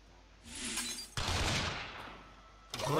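Quick Shot spell effect in the Hearthstone video game: a sharp burst of impact and crackle that cuts in abruptly, sustains a noisy rush, then fades before another hit at the end.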